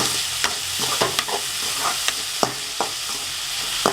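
Onions sauté in a pan for a fish stir-fry, a dense continuous sizzle broken by sharp spatula scrapes and knocks at irregular intervals, close up with no voices.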